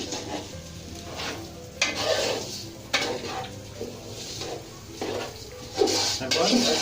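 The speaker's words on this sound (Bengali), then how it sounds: "এরপরে চালটা হালকা একটু ভাজার মতো করতে হবে।" Rice for Barishal-style Monu biryani is lightly fried in a pot, with a steady sizzle under repeated scraping stirs of a metal spoon against the pot, close and moderately loud in uneven strokes.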